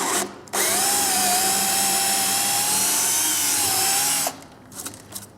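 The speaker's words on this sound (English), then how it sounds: "we'll just pre-drill these because again, those lags are so thick they would probably split this out" A power drill bores pilot holes into wood for thick lag bolts, running at a loud steady whine for about four seconds after a short start, then cutting out into quieter handling sounds.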